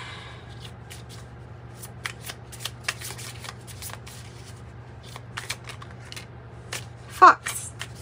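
An oracle card deck is shuffled close by in soft, intermittent riffles and taps over a low steady hum, with one sharper sound near the end.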